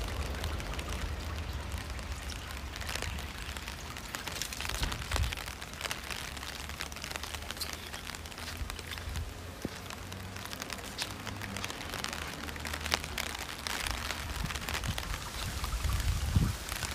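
Steady rain falls outdoors, a dense continuous hiss with scattered drops and a low rumble throughout, fairly close and even in loudness, with no voices.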